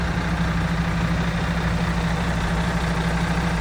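A MAN TGS 18.440 Euro 6 truck's 12.4-litre diesel engine idles steadily up close, a constant low rumble with a deep throbbing hum and no voices.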